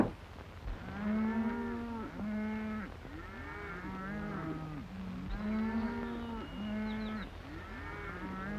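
A herd of cattle lows repeatedly in a western setting, overlapping deep moos rising and falling in a steady rhythm, fairly close and loud, with no talking.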